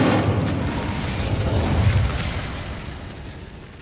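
A fiery Incendio spell blast in Hogwarts Legacy erupts as a loud, booming whoosh that rumbles steadily and then fades over a few seconds, with no voices over it.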